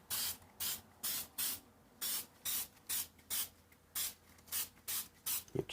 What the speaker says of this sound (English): So now I'm just going to spray a little bit on here.